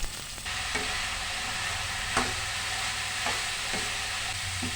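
Sliced onion, green chili and boiled banana stem being stir-fried in a pan, with a constant close sizzle broken by a few sharp spatula scrapes.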